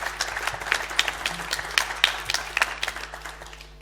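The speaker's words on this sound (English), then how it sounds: "So applause for him" Light, scattered applause from a small audience at a literary festival evening event, with distinct individual claps close by at a moderate level and no talking.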